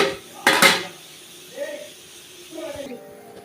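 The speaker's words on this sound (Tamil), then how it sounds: "இப்போ வந்து ஒரு தட்டை போட்டு மூடி வச்சிடலாம்" A plate is set down over a pot of chicken gravy with a couple of sharp, close clinks near the start. A quieter stretch follows, with brief muffled sounds that may be voices.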